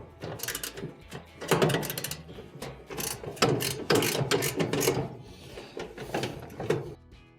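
Ratchet wrench tightening a fastener on a clothes dryer after levelling it, a run of rapid clicking pawl bursts repeating in uneven strokes, close and fairly loud with no talking.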